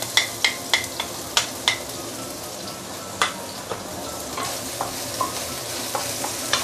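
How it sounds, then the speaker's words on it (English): Garlic, shallot and ginger sauté in a pan under a steady sizzle, punctuated by sharp, close utensil scrapes and taps, quick at first and then spaced out. "So let's saute our fresh ingredient here, which is garlic, shallot, and also ginger."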